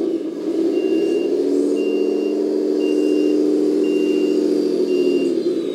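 An RC 10x10 roll-on/off dumper truck with crane reverses. A steady electric motor hum runs under regular, evenly spaced reversing beeps, about five in a row, close and clear, with no talk.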